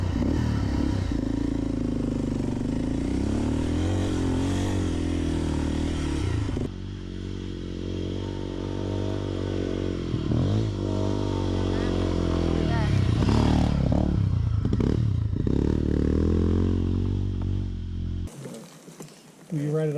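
A Honda CRF250L dirt bike climbing a steep, dusty hill, its single-cylinder engine droning loud and close with rising revs and throttle surges, gravel scraping and clattering underneath, then cutting out abruptly near the end.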